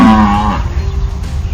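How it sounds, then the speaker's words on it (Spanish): A single drawn-out cow moo, close and clear, opening loud with a low harmonic tone and trailing off into quieter rumble, with no talk over it. "¡Vaca! Eso, muy bien, la vaca."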